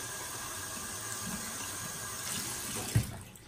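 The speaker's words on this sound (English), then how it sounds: "Just take some warm water," Warm tap water runs steadily into a sink to soak a synthetic shaving brush, a constant close hiss of flowing water with a brief splash near the end.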